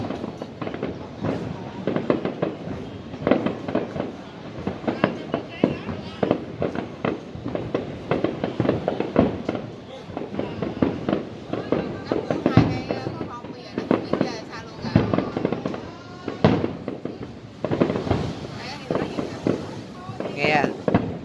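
Lunar New Year fireworks at the Landmark 81 tower, a dense, continuous barrage of loud booms and crackling bursts lasting throughout, with crowd noise beneath.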